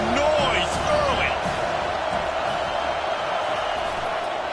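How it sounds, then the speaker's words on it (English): A stadium crowd roars in the College Football 25 video game during a dynasty matchup against Texas, a dense, steady wash of noise with faint whoops and a thud early on. "This crowd bringing the energy and noise early."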